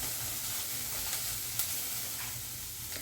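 Onion and coriander stalks frying in a pan for an egg curry masala, a close, continuous crackling sizzle with soft stirring scrapes and no talking.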